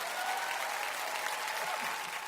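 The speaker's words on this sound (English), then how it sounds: "I wasn't expecting clapping." A crowd claps in steady, dense applause from a moderate distance, sustained throughout.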